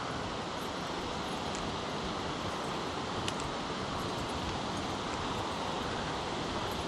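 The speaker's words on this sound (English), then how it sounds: "The rush of water has gotten louder." Rushing water of Grotto Falls, a waterfall on the Trillium Gap Trail in Great Smoky Mountains National Park, roars as a steady, loud broadband wash with no breaks and no voices.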